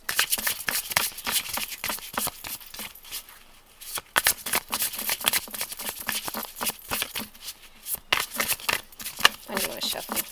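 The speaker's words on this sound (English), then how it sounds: "let me shuffle these cards now." Tarot oracle cards are shuffled by hand in quick riffling bursts with crisp slaps and rustles, pausing briefly about midway before the shuffling resumes, close and fairly loud.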